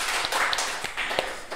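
An audience at a talk on tax incentives for small businesses breaks into a short burst of close, crisp clapping, packed and steady for a moment with no voices.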